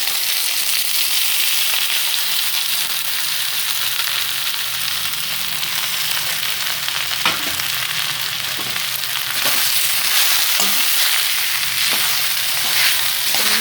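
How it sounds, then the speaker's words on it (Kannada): Sabudana (sago) tipped into a hot pan for khichdi, frying with a steady close sizzle, with scattered clicks and scrapes of stirring as the pearls move around, alone with no talk. "ಇವಾಗ ಸಾಬ್ದಾಣಿನ ಹಾಕ್ತಾ ಇದ್ದೀನಿ"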